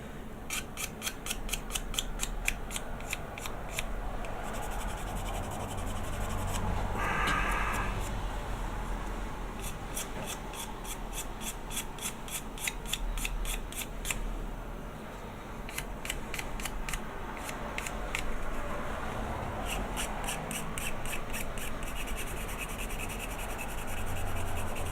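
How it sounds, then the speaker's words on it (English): Sanding a Pegasus Hobbies War of the Worlds plastic model kit by hand, a steady close scratchy rubbing that repeats in quick rhythmic bursts of strokes, with short pauses between passes. "I can't think of anything so much more exciting than watching someone sand a model kit."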